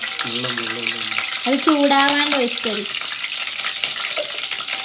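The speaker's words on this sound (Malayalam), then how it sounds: "എണ്ണ ഇങ്ങനെ പൊട്ടിത്തെറിക്കുന്നു" Hot oil with mustard seeds spattering in a pan, a constant close sizzle with crackling pops while someone talks over it briefly.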